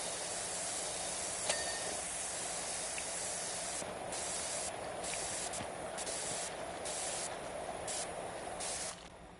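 Steady broadband hiss of a pressure washer spraying in Power Wash Simulator 2, a continuous loud jet with regular short gaps where the spray cuts off and resumes near the end.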